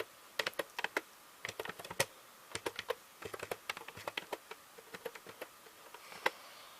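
Quick, uneven bursts of keystrokes on a computer keyboard, close and fairly quiet, with short pauses between runs of typing and no voices.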